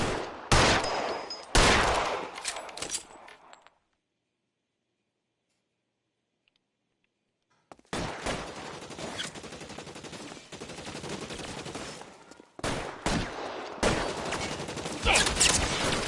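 Gunfire in an L.A. Noire shootout: sharp, loud bursts of shots and rapid volleys, broken by a few seconds of silence, then dense continuous firing resumes with scattered cracks.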